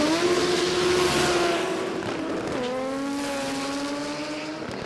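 A front-wheel drive car launches hard off the line at a motorsport jamboree, its engine note climbing loudly through the revs, dropping at a gear change and then rising again, with a steady roar close by.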